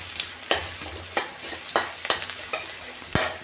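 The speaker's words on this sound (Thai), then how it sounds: "ใส่กระเทียมลงไปนะคะ" Oil sizzles and crackles steadily as garlic fries in a pan, with occasional louder clinks and stirring scrapes, close and without speech.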